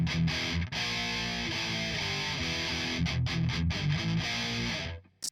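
Electric guitar run through an Audient Sono amp simulator with the power amp drive switched off, playing a sustained, moderately distorted riff of chords and notes that continues steadily for about five seconds before cutting off.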